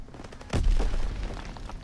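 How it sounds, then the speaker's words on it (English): A single heavy explosion thuds and rumbles in a Call of Duty WWII battle, a sharp boom that decays into a low roar, with no talking over it. "Oh, hey, I got explosions over here."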